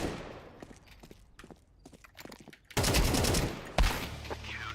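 Gunfire in a shooter video game, scattered single shots that then become two loud, dense automatic bursts before the gun runs dry and stops.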